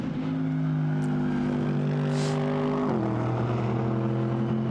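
A Mercedes GT race car in a Blancpain GT Sports Club qualifying race at the Hungaroring gives off a deep, steady engine burble. The pitch holds level, then drops a step partway through, like an upshift or the car easing off. No one speaks.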